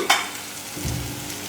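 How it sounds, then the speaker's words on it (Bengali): Onions frying in a pan for a crab curry, a close, continuous sizzle with stirring scrapes and a brief sharp clatter near the start, no talking. "এবার দেখুন পেঁয়াজটা সুন্দর ভাজা হয়ে গেছে"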